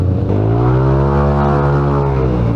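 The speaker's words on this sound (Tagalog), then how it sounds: "Ba't nang lakas din itong motor niya, no? Humahatak." A modified Yamaha Aerox scooter engine revs loud and close, a strong buzzing drone that rises and then eases back over a couple of seconds, with no voices.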